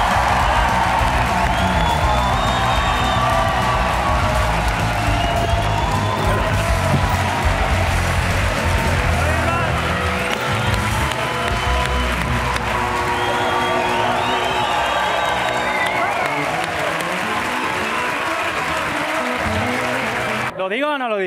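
A studio audience on the La Resistencia talk show applauds and cheers for a singer, a loud, dense, continuous wall of clapping and whoops that fills the room and drops away abruptly at the very end.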